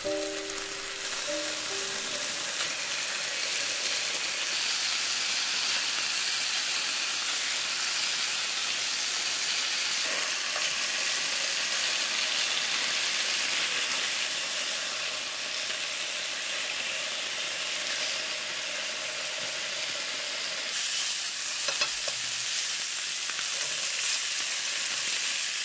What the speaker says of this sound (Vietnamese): Cho thịt vào chảo và mình mở lửa vừa thôi ha.